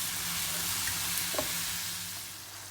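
Ginger, garlic and tomato sauté with rock salt in a pan for a pepper chicken gravy, giving a steady, close sizzle and hiss throughout, with a faint stirring scrape partway through.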